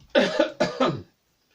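A voice makes two short, deliberate coughs in quick succession, close and clear, followed by silence.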